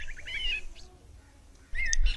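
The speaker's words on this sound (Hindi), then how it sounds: "उसी पेड़ की शाख पर एक चिड़िया बैठी होती है।" A cartoon bird perched on a tree branch chirps in quick, bright bursts at the start and again near the end, with a quieter gap between.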